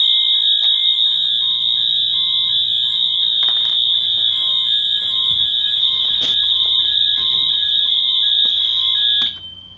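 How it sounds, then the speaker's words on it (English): A smoke detector on a fire alarm system shrieks during a system test, one loud continuous high-pitched tone held steady for about nine seconds before cutting off abruptly. "we're going to go ahead and test the smoke detector"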